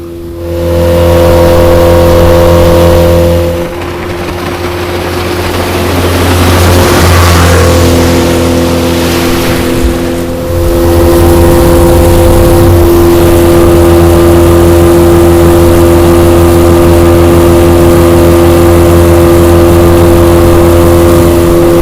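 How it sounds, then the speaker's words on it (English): A loud, steady outboard engine on a small boat with a 4-blade propeller drones close by, its pitch shifting as it throttles up, dips briefly, then settles into a sustained high-revving hum. "the boat definitely seemed to jump on plane faster with that 4-blade prop"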